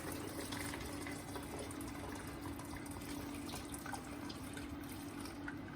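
Chicken stock pours from a pan through muslin in a kitchen, a continuous soft gushing trickle of liquid at moderate distance, steady throughout without speech.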